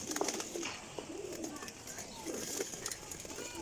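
Soft, low pigeon coos repeat in the background while someone talks over them, with faint rustling around.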